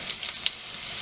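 Chopped garlic with cumin seeds sizzling in hot oil in a pan, a brief, soft, steady hiss with a few faint crackles.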